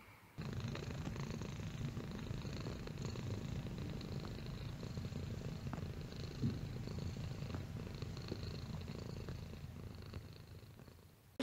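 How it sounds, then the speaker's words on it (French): Pet cat purring while cuddling, close to the microphone, a soft, steady, rhythmic rumbling purr that continues for about eleven seconds, quiet overall, with no talking. "j'ai mon chat qui me fait un câlin"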